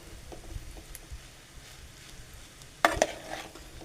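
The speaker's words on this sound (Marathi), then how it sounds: "परतून घेऊ आपण सगळा भात, एकत्र करून घ्यायचा" Schezwan rice with Schezwan chutney and masala stir-fried in a pan: a soft, quiet sizzle broken by a sharp metallic clank of the spatula near the end.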